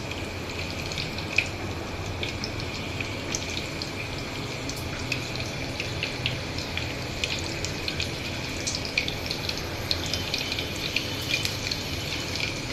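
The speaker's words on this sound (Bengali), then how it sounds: "আমি এখন চিপসগুলোকে ভাজবো।" Potato chips cut into flower shapes frying in hot oil over a medium flame, a steady dense sizzle and fine crackle running evenly throughout with no talk.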